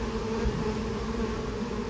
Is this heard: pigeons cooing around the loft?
no